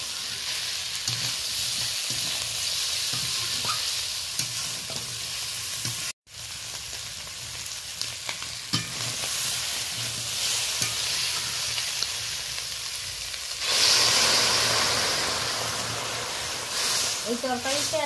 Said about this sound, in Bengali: ভেজে রাখা আলু বেগুনটা দিয়ে দিলাম। হালকা করে একটু নাড়াচাড়া করে নিচ্ছি।